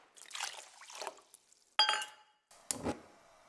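Water poured into a sauce pot holding green lentils and brown rice, with a few sharp glassy clinks and bursts of splashing pour separated by brief pauses, close and fairly quiet.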